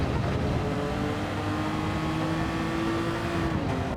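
Ferrari Testarossa engine in Gran Turismo 7, lapping Brands Hatch in an online time trial: a steady, loud engine drone holding one pitch throughout, with no talk over it.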